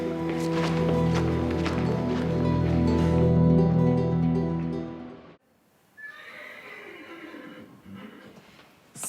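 A horse gives a loud, drawn-out neigh lasting several seconds, close by, then cuts off abruptly into quieter ambient sound with faint whinny-like traces.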